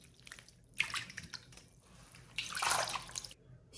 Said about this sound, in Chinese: 接下来给它清洗干净，清洗的时候手也要轻一点